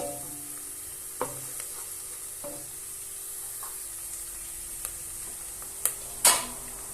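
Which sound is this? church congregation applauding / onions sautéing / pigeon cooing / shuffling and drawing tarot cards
onions sautéing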